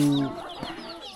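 Chickens in a remote rural village cluck in a brief burst, close by and moderately loud.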